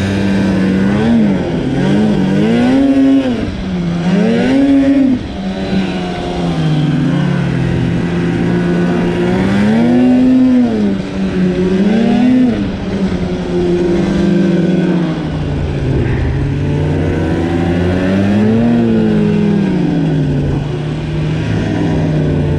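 A snowmobile driving around a house in Norway, its engine loud and close throughout with a continuous droning note that rises and falls as the throttle changes.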